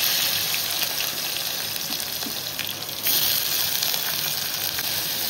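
Onion sautéing for masoor dal with hing, curry leaves, ginger, garlic and green chili gives off a loud, steady, close sizzling hiss that runs without a break and swells briefly near the middle.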